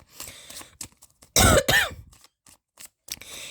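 A single sharp cough bursts out close by, with a throat-clearing rasp, amid quiet breathy sounds before and after.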